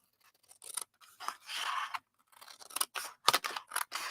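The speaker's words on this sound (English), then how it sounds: "cut this piece completely off" Scissors cut a piece off to form the bottom of a box: a quiet, close run of crisp snips and short rustling scrapes separated by brief silences.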